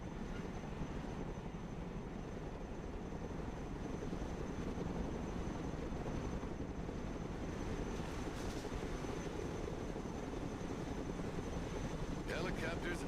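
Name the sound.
helicopter in Broken Arrow video game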